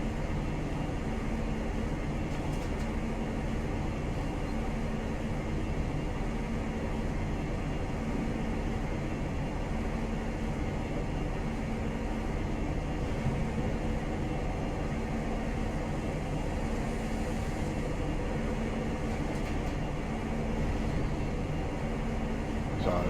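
A Class 43 HST train in Train Simulator Classic coasts at speed on the line out of Bristol, giving a continuous broadband rumble of wheels and running noise at a steady level, with no talk.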